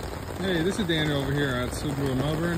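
Steady rain falls over a Subaru dealership lot in Melbourne beside a 2024 Honda CR-V, a soft continuous hiss running beneath someone talking close to the microphone.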